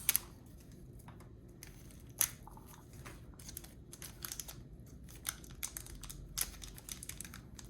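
Plastic packaging being peeled and pulled off a Figma action figure during an unboxing, giving faint, scattered crinkles and snaps with a few sharper clicks spread across a quiet room.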